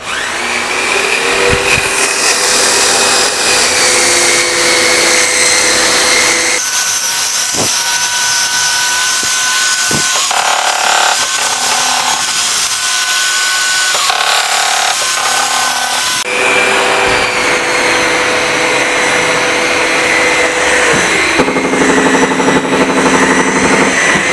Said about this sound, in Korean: 여기를 지금 이제 저희가 월샌더를 사용을 해서 샌딩하는 거를 보여드릴 겁니다